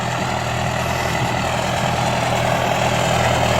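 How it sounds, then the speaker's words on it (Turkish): A tractor engine runs steadily nearby while laying plastic over low tunnels in a watermelon field, a continuous low rumbling drone with no pauses or talking. "Evet traktör de geliyor arkadaşlar"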